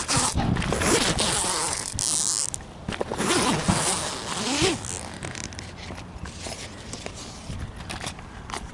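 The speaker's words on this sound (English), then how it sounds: "We're gonna have to unzip the canopy out of here. Let's go ahead and get this unzipped." Repeated rasping zipper pulls, close and clear, as the fabric cover of an ARB retractable awning canopy on a Ford Explorer Sport Trac is unzipped in several uneven strokes with brief pauses.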